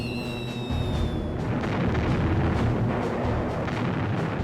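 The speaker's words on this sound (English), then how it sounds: "the first bombers dropped their bombs through gaps in the heavy clouds" Massed aerial bombs from WWII bombers detonate near St. Lo during Operation Cobra, a continuous loud rumbling barrage of overlapping deep blasts with no clear gaps between them.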